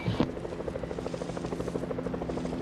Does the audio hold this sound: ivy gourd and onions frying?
no